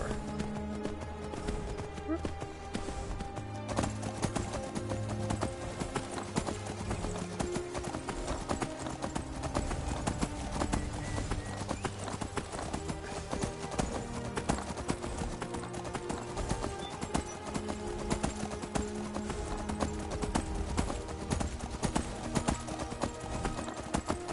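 Horse hooves clop steadily as a rider travels in a fantasy video game, a rapid, even beat over game music, with someone talking now and then.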